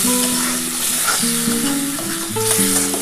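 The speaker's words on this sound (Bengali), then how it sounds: "বন্ধুরা দেখো মশলাটা এবার ভালো করে কষিয়ে নিচ্ছি।" Ground spice paste for a dhaba-style egg masala curry sautéing in hot oil, a steady close sizzle with scraping stirs, while background music plays with tonal notes throughout and no one speaks.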